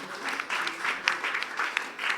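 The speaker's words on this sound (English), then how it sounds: "Please give a big round of applause for Mr." An audience applauds to welcome a speaker at an ASEAN power grid event, with steady, moderately faint clapping sustained throughout and a few sharper individual claps.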